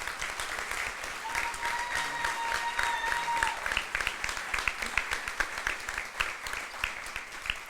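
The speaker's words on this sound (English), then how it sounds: "Can we please give those ladies a round of applause?" Steady round of applause from a seated audience at a film festival opening-night panel, dense clapping sustained throughout with a few cheers and voices mixed in.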